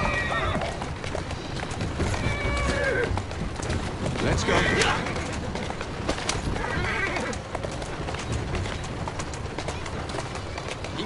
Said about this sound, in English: Who's a good horse?